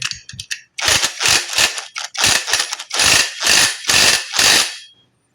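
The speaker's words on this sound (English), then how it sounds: "then we can screw that on our tensioner housing" A ratchet or power tool tightens the tensioner pulley onto its housing on a Toyota Innova, loud and close, with a few quick clicks and then a series of about eight rhythmic rattling bursts.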